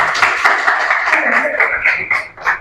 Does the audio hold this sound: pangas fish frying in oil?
no